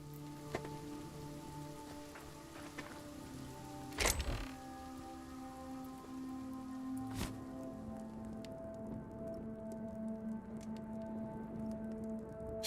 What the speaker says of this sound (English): And it's starting to rain, because of course it is.